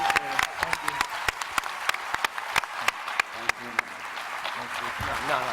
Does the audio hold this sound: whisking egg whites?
no